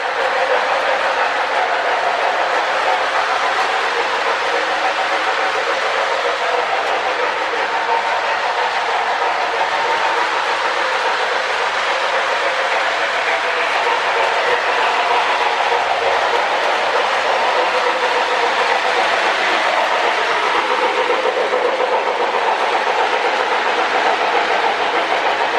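A steady, continuous rumble of a running Lionel 726 Berkshire model steam train with a RailSounds tender, soft rhythmic chuffing and rail noise holding level throughout.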